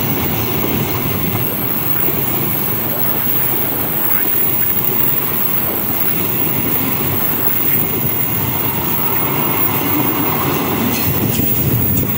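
A locomotive-hauled train rumbles past close by on the Cakung-Bekasi line, a loud, steady roar of wheels with rhythmic clattering and faint squealing throughout.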